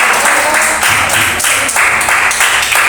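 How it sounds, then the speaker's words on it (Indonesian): Students applaud in a classroom during a group guidance session, a loud, close burst of many hands clapping continuously for about three seconds. "Kasih tepuk tangan dulu."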